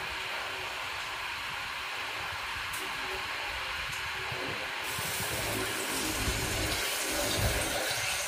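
Tap water runs steadily while rice is washed, a continuous close splashing hiss that grows slightly louder and rougher toward the end.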